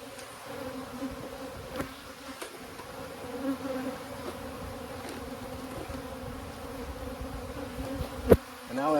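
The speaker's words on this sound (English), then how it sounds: "We've got bees over there, bees in here." Honey bees buzz steadily around an abandoned hive box, a continuous insect drone with a few brief knocks and a sharper thump near the end.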